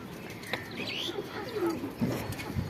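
Pigeons cooing on a rooftop, with soft low coos and a few brief chirpy calls scattered across a steady outdoor background.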